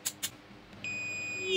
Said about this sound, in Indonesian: jika terdengar bip panjang seperti itu berarti ada yang short